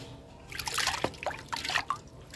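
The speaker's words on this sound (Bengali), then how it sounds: "এবার আমি জল নিংড়ে এটাকে থালায় তুলে নেব।" Water squeezed from a handful of washed spinach leaves, brief dribbling trickles and drips into a vessel, close and fairly soft, with no talk.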